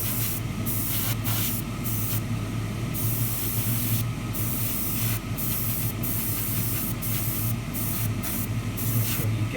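Light mist coats of spray paint hiss onto Tamiya LaFerrari 1:24 model chassis parts in a series of short and longer bursts, close and steady with no talking.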